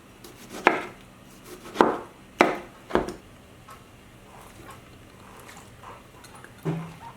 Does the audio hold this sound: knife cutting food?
yes